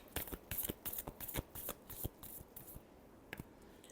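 Tarot cards being shuffled by hand give quick, crisp riffling bursts in an uneven rhythm, close and fairly quiet, with no voice during the shuffle.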